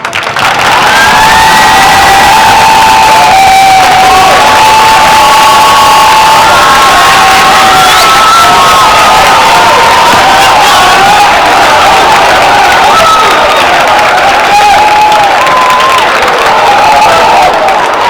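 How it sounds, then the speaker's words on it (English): A crowd at a 2017 McDonald's All-American presentation for M.J. Walker Jr. bursts into loud, sustained cheering, shouts and whoops over applause, staying very loud for the whole stretch. "let's just give a thunderous round of applause for MJ Walker"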